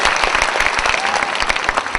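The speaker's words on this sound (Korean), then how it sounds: "박수 좀 부탁드리겠습니다." Loud, full applause from a large audience at a Korean talk show, with clapping packed densely and sustained evenly, some louder individual claps standing out.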